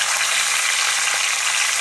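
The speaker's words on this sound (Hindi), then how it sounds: "इस घी में मैंने प्याज को ब्राउन किया था, उसी घी में अब मैं गोश्त डाल देती हूँ।" Mutton frying in ghee with browned onions, a loud dense sizzle that holds steady for a moment, close and without talk.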